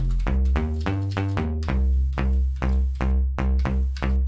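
A Loom synth bass preset played in FL Studio, a bright electronic bass with rich harmonics hitting a run of loud, punchy notes in a steady rhythm, alone with no voices.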